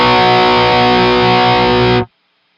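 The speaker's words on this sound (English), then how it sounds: "Let me show what that sounds like with distortion. Here's the regular full-blown pickup." A thick, sustained distorted electric guitar chord on the full pickup, ringing loudly for about two seconds, then cut off abruptly into silence.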